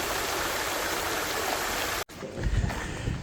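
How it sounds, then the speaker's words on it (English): Water rushes at Fitzroy Falls, heard from Paynes Lookout in Morton National Park as a loud, steady, broad roar that briefly drops out and then returns slightly rougher. "if you can hear the water"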